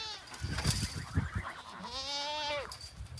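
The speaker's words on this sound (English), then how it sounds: "And here's our goats." Farm goats bleat close by, with short rough cries first and then one long wavering bleat, and chickens and geese are somewhere on the same farm.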